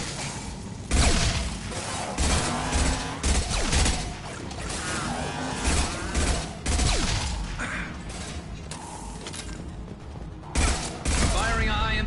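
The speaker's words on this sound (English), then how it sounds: "Firing a high-impact shot." Gunfire from the video game Mass Effect 2 crackles in rapid bursts of shots and fusillades, mixed with mechanical clanks and game sound effects, loud throughout.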